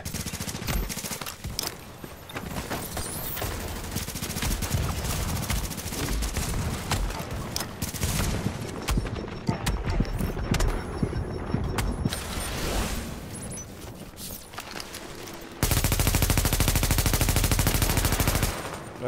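Gunfire from The Division during a rogue player-versus-player fight, dense bursts of automatic shots and mechanical clatter running continuously, ending in a loud sustained stretch of firing.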